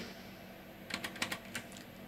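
Keys on a computer keyboard are pressed in a quick cluster of about five or six light clicks, close and clear over a quiet room hum, with no talking.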